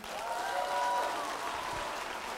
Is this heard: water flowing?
no